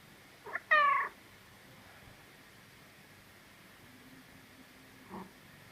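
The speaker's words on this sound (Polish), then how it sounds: "Fajny kotek." A calm house cat gives one clear, close meow near the start, just after a brief softer chirp. The room then stays quiet apart from a faint tap near the end.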